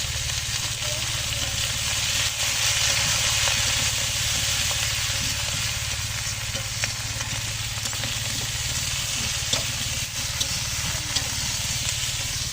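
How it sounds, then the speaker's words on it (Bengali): Tengra fish curry with bottle gourd, potato and turmeric frying in a pan, a dense, continuous sizzle and hiss close up with faint stirring scrapes and occasional small ticks. "হলুদ দিয়ে দিলাম তরকারিতে।"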